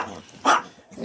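A Chihuahua gives a single short, close bark, bracketed by quieter low rumbling and grumbling.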